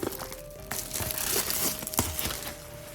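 Plastic packaging around a Topo Studio Knightmare Batman leather coat crinkles and rustles close up in short bursts over three seconds, with a faint steady tone underneath and no talking.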